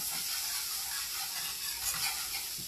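Minced garlic sizzling in melted fat in a pan while making a white wine cream sauce, a steady close hiss and crackle with faint swishing as it is stirred, no talking.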